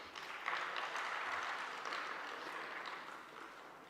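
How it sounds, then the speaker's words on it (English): An audience at a spiritual education event gives steady applause welcoming a speaker, a dense wash of many hands clapping that stays even and fairly distant before slowly tapering. "So let us welcome with a big round of applause"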